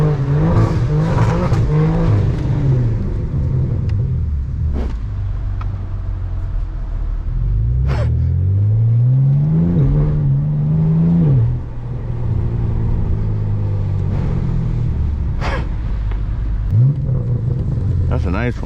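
A BMW E92 335i with the N54 engine and its catalytic converters removed rumbles and revs, its exhaust note rising and falling loud and close, with people talking over it.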